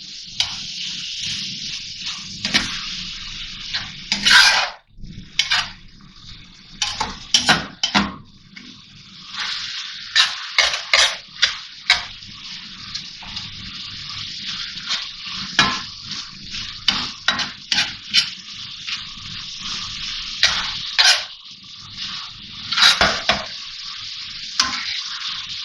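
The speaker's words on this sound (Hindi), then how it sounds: "अब इसको मैश कर दूंगी टमाटरों को मैं।" Soft tomatoes get mashed into cooking beef mince in a pan for tawa keema, with repeated scraping and clattering strokes of a utensil over a constant sizzle, close and busy, without speech.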